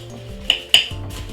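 Chocolate being stirred into Rice Krispies in a bowl, with a utensil clinking against the dish in two sharp taps over soft scraping and crackling, close and fairly quiet, no talking.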